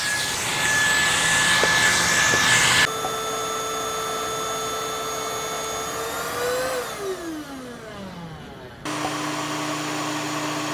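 Several vacuum cleaners whine one after another, each with a steady high motor tone; one spins down with a falling pitch before another starts up loudly.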